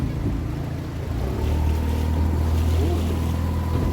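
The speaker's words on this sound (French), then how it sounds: "Il apprend à conduire le bateau." A motorboat engine drones steadily on the open sea off Paleokastritsa, Corfu, with wind and water rushing close by and no break in the sound.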